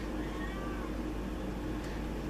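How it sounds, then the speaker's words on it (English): A house cat meows several times indoors, a clear mid-close cry standing out over a steady low background hum with no talk. "that's my cat."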